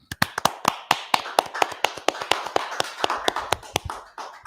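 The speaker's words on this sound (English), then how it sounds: "Let's clap it up." Hands clap in a steady, brisk rhythm at a religious class gathering, about twenty sharp, close claps evenly spaced with no talking.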